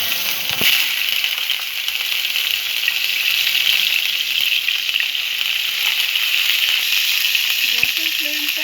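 Onion and ginger paste fries in a hot pan with dried chillies, giving a loud, steady, hissing sizzle that crackles evenly throughout, with a brief utensil clink near the start.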